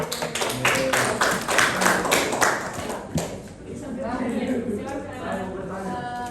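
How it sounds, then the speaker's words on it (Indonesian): Classroom group applause from students after a group presentation, a burst of scattered hand claps with mixed chatter that thins out midway as talking takes over. "Berikan tepuk tangan dulu."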